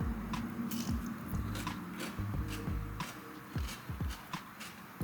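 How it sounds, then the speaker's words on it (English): Someone bites and chews a crunchy, spicy cucumber salad close up: wet crunches and squishy chewing in a quick irregular rhythm, with no talking. "I'm in love with this salad. It's spicy, it's crunchy"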